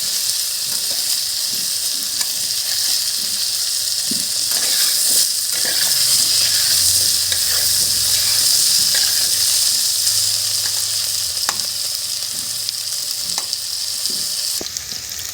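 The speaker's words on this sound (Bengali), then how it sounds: "আলুগুলো আমি লাল লাল করে ভেজে নেব।" Potatoes frying in oil in a kadai for a ridge gourd, egg and potato curry, browning to a reddish colour; a steady, close, continuous sizzle and hiss with small crackles and stirring scrapes, no voices.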